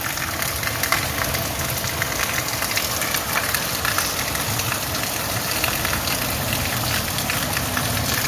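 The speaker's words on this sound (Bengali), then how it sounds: "প্রচুর বৃষ্টি হচ্ছে" Heavy rain pours outside onto an empty street in a steady, dense broadband wash, with a low rumbling, engine-like undertone running through it. No voices break in.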